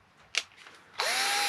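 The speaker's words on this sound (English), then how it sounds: "So I'm just going to drill this final hole in the front as carefully as I can" Power drill boring the final hole in a Triumph T140V Bonneville front mudguard: a brief quiet start, then a loud, steady high whine from the motor biting into the metal, close and alone without talk.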